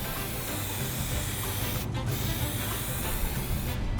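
Continuous close aerosol hiss of tint being sprayed onto the lights of a BMW M3, a loud steady spray with two very brief pauses, no talking.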